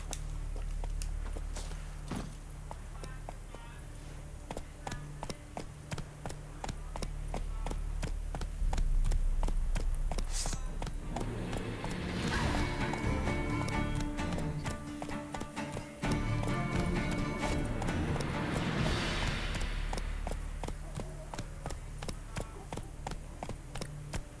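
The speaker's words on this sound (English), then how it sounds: "Let's just ride around on a horse and see how things are." Horse hooves clip-clop in a steady rapid rhythm while riding through an open area in The Witcher 3, loud and close, with game ambience and some talk over them.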